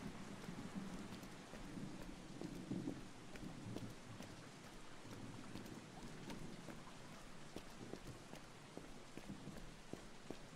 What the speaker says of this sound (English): It's a storm out here.